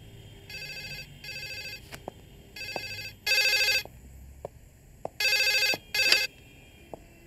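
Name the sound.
telephone ringing after dialing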